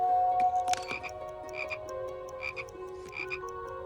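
A tree frog croaks in short, repeated chirping calls at a steady rhythm, fairly close, over a constant background hum of insects.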